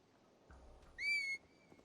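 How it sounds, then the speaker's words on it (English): A short whistle calls a horse in Assassin's Creed Valhalla. A single clear, bright note lasts about half a second, with a faint footstep-like thump just before it over a quiet background. "Like my regular whistle will call the horse"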